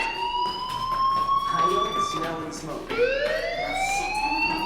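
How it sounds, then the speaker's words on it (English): A school fire alarm in the video game Life is Strange wails in rising and falling siren sweeps that repeat over several seconds, steady and fairly loud, while a voice speaks underneath. "do you hear that fire alarm? That means you should be outside."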